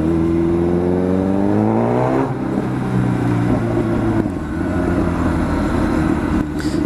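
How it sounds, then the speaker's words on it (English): A straight-piped Kawasaki Z900 motorcycle revs up in a tunnel, its exhaust tone rising, then dropping off into a loud, echoing, rumbling cruise with scattered crackles. "Let's see if I can make the exhaust pop through the tunnel again."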